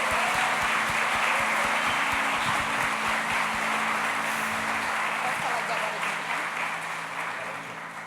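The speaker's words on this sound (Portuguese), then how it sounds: "Queria uma salva de palmas para esse pessoal maravilhoso." A congregation gives a long, dense round of applause for the Aconchego group at a church event, holding steady before slowly fading toward the end.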